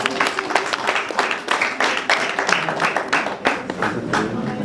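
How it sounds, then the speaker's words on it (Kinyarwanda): A congregation at a church wedding claps in a fairly regular beat, a series of crisp, close hand claps over faint room noise. "mwankomeye amashyi"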